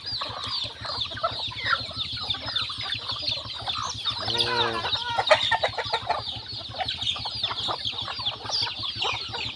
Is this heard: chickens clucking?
yes